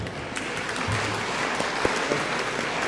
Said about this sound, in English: Feel free to clap, it's fine.